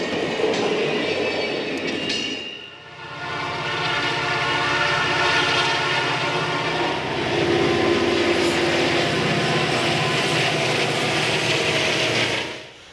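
A Denver & Rio Grande Western ski train rumbles past near Tabernash, a loud sustained roar with steady low engine drone and rail noise, briefly dipping before swelling again and fading at the end.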